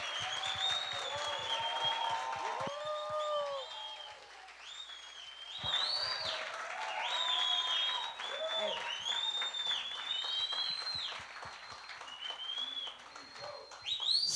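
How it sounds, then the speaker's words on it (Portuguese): Audience applause at a municipal council award session in São Gonçalo, Brazil, a steady patter of clapping running throughout, with high chirping tones and faint voices mixed in. "o carinho e os aplausos de todos"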